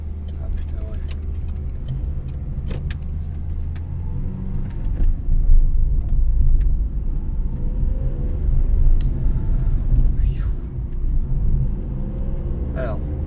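A cold car engine idles with a steady low rumble in a small courtyard, with faint jingling and clicks on top and a person speaking French over it.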